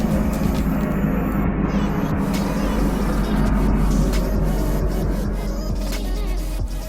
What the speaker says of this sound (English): That was definitely a helicopter.